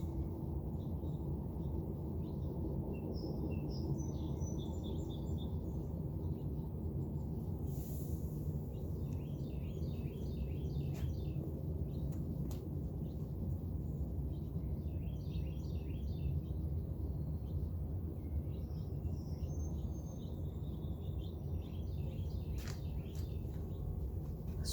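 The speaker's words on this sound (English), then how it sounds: "It's so relaxing with the bird sounds, too." Birds chirp and trill in scattered bursts over a steady low rumble of nearby train wheels on tracks, faint and somewhat distant.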